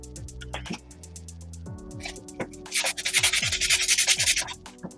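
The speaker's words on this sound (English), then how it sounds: "Because the sandpaper is going to be kind of loud." Sandpaper rubbed by hand over a Jason Voorhees hockey-style mask, starting with scattered light scrapes and then building into a loud, steady run of quick back-and-forth strokes, close up with no talking.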